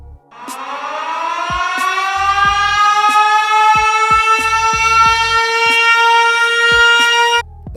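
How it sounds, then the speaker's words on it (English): A siren sound effect rises in pitch and holds a loud, sustained wailing tone for about seven seconds before cutting off abruptly, with faint thumps beneath it. "it's the controversial choice siren"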